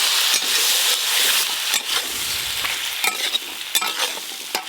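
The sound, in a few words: taro stolons added to pan with nigella seeds and green chili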